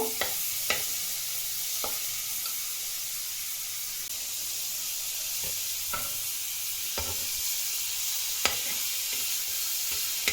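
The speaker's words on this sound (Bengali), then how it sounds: "এই একটা টমেটো আমি এর মধ্যে ভেজে নেব" A single tomato frying in a pan with just a drop of oil, a steady soft sizzle and hiss throughout with occasional sharp pops and spatters, close by and with no voices.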